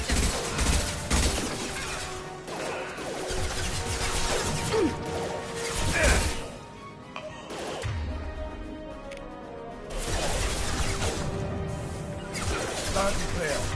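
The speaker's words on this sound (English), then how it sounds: "Overloading their systems." Overload tech power crackling against enemies in a Mass Effect 2 firefight, with crashing impacts and mechanical bursts amid continuous combat noise and occasional voices.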